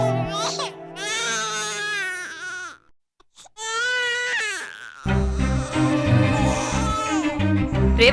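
A baby cries with rising, wavering wails across the first seconds, pauses briefly, then cries again while other voices and music-like tones join, all fairly loud and close.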